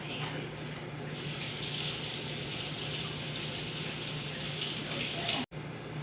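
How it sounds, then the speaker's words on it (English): Hands are washed under a running kitchen tap during cooking. The water rushes in a steady, close, continuous hiss that is briefly cut off near the end, with no talking. "wash my hands."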